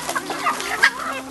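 A silver Polish crested rooster clucks in a few short, close bursts with a brief louder call near the end, no talk around it.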